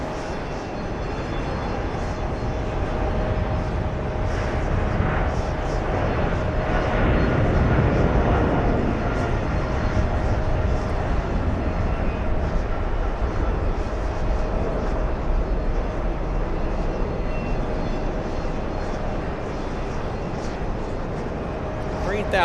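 An airliner with GE90 jet engines takes off near the TWA Hotel, giving a loud, steady broadband roar that holds for the whole stretch and swells slightly in the middle.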